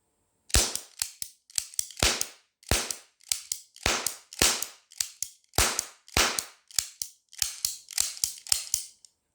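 Toy cap gun from Smyths Toys fired repeatedly, sharp loud snapping cracks in quick uneven succession, each followed by a faint click of the mechanism, close and with no talking.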